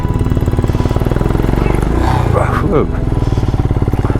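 A Royal Enfield Himalayan motorcycle rides slowly over rocky sand, its single-cylinder engine thumping in a steady, close, loud rhythm, while a person talks over it.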